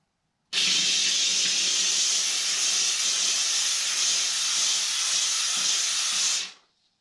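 A Hercules Vapor Scrub steam cleaner spraying a strong continuous jet of steam onto a table, a loud steady hiss that starts abruptly, holds for about six seconds, then fades quickly.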